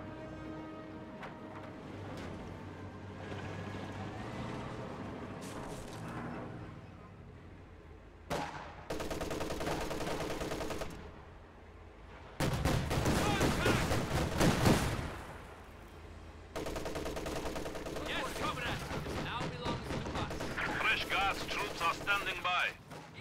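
Machine gun and half-track gunfire in a World War II strategy video game, with MG34 bursts and heavier cannon fire among sandbag positions, loud and sustained in dense stretches across the scene with brief lulls between volleys.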